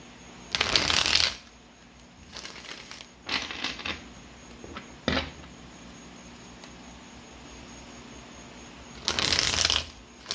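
Tarot cards being shuffled, with several distinct riffling bursts, loud at the start and end and lighter in between, separated by quiet pauses.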